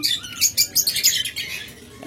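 Pure-marked lovebirds chirp in a busy, overlapping flurry of sharp high tweets, close and fairly loud, with no voices.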